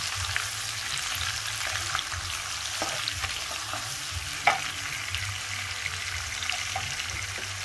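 Chopped onions fry in a pan with a soft, continuous sizzle and occasional small pops, steady and fairly quiet, with no voices.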